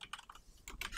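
Quick keystrokes on a computer keyboard, a short burst of close, crisp clicks tapped in an uneven rhythm.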